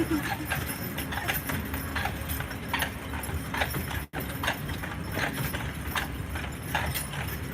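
Horse hooves clip-clop steadily and rhythmically on pavement as a horse pulls a tour carriage, with a constant background rumble and a person talking over it.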